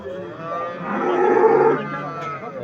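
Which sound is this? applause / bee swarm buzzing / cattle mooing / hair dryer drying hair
cattle mooing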